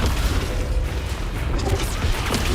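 A Descendo spell cast in the video game Hogwarts Legacy lands as a dense, rumbling blast of noise that holds steady and loud for the whole moment, with slight surges partway through.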